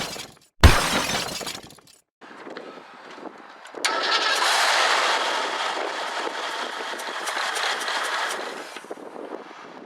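A 1984 Ford Mustang GT350 with a troublesome carburetor and a disconnected fuel line cranks: a sharp loud burst, a short pause, some scattered rattles, then a sustained rough engine roar that holds steady to the end.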